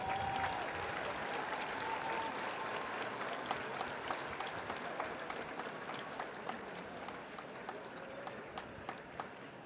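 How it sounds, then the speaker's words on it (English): Applause at an Independence Day parade, a broad, distant crowd clapping steadily outdoors for about ten seconds, soft and even with faint crowd noise beneath. "Give them a round of applause."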